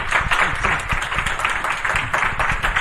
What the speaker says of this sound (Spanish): que suene muy fuerte, un grandísimo aplauso para Catriona Maccoll